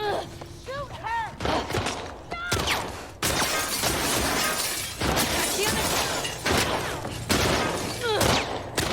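Gunfire in The Last of Us Part 2, a chaotic run of loud cracking shots and shattering impacts during a chase, with a person talking over part of it.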